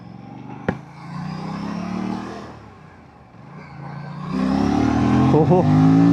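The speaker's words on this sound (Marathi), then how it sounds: "बाईकचा जो एक्झॉस्ट नोट आहे ना, तो रॉ फील होतो आहे" An Aprilia RS 457 motorcycle's exhaust rises and falls in revs while being ridden, a near, raw engine note that swells, dips, and builds louder toward the end, with a voice speaking over it.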